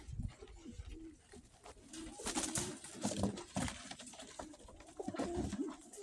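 Pigeons, including a blue-pied one, coo in low, throaty repeated phrases nearby, with some scuffling and rustling mixed in.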